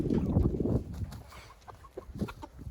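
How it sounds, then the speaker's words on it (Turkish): A broody brown hen clucks in a village farmyard kept with ducks, giving a burst of low, close, throaty clucks followed by sparser, quieter calls. "Şu tavuk arkadaşlar kurk olmuş."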